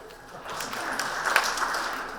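A lecture audience at an educational inclusion talk claps together in a dense, moderately loud burst of many hands, sustained across the moment rather than clearly separated strikes, with no speech over it.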